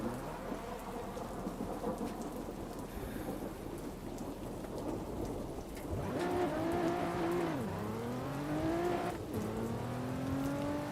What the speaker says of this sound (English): it is currently raining. You can hear it.